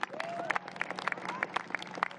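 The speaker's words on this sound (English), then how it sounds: "Let's give them another round of applause." A crowd applauds at a public press announcement about the 2026 FIFA World Cup in New York. Scattered, moderately faint clapping continues throughout, with a few whistles and murmuring voices mixed in.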